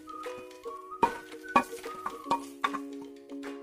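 A spoon stirs shredded cabbage, carrot and other vegetables in a pan for egg rolls: scattered metallic clinks and scrapes at irregular intervals, close and fairly quiet, with a ringing tone between strikes.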